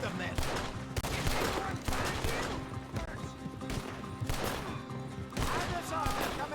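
Rapid bursts of gunfire in a Red Dead Redemption 2 shootout, loud and repeated across the whole stretch, with several shots crowding together over a dense game soundscape and a voice speaking now and then.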